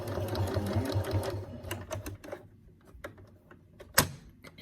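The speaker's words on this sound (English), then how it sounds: "then I'm gonna wanna sew my pleat" A sewing machine stitching a pleat in fabric, its motor whirring in a fast steady run before stopping, followed by a few scattered clicks and a sharper knock near the end.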